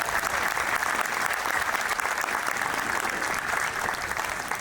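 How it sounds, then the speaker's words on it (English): A dense, steady round of applause from the audience at a police chief's retirement ceremony, continuous clapping at an even, fairly loud level with no pauses. "Can you give them a round of applause?"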